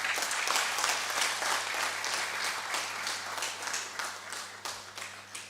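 Applause from an audience after a Teacher's Day lecture, a dense, moderately loud patter of many hands clapping with a steady low hum underneath, gradually thinning toward the end.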